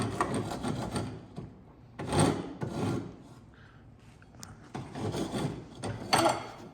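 Sandpaper rubbing over a small scrap-wood mallet, rough raspy strokes in uneven bursts separated by short pauses, close and fairly quiet with no talking.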